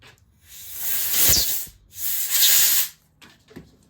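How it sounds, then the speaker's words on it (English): An air compressor blows debris out in two sharp, loud bursts of hissing air, each lasting about a second, close up with brief quiet between them. "let me hit it with the air compressor"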